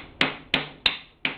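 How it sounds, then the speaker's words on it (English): Four sharp metallic hammer taps on an open-end wrench while removing a part from an engine, evenly spaced, each ringing briefly before fading. "Then I get an open end wrench and the hammer and on a little bump"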